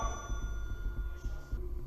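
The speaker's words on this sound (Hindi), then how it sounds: "आपने घंटी बजाई थी?" A time bell in the Delhi Assembly chamber rings with a faint, sustained metallic tone over a low room hum, distant and soft.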